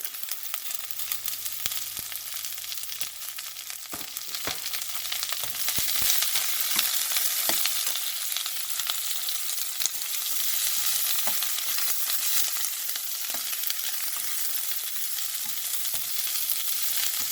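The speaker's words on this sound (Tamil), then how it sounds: "நல்லா வெங்காயம் வதங்கி கொண்டு வந்துட்டுருக்கு நாங்கள் வட்டி வச்சிருக்கிற பீன்ஸை போடுறேன்" Green beans and sautéed onions fry in a pan with a loud, steady, close sizzle. Occasional stirring clicks sound over the hiss, and no one speaks.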